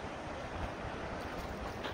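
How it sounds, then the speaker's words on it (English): Strong wind blows on a spring mountain trail near the Keystone Arches in Chester, Massachusetts. It makes a steady, low roaring rush of gusts buffeting the microphone, with no voices. "And it's super windy out here again."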